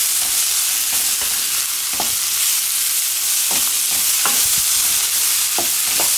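Bell peppers frying over high heat in a pan, with a continuous sizzle punctuated by irregular scrapes and knocks of a utensil stirring them, close and fairly loud, no voices.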